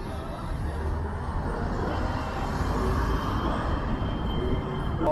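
A low rumbling rolls on steadily throughout from a test tram running along rails at a distance in Blackpool, with broad noise and no clear voices.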